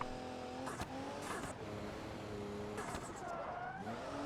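The Grand Marshal car drifting in a video game, with an engine revving up and down in clear rising and falling pitches, punctuated by bursts of tire squeal as it slides.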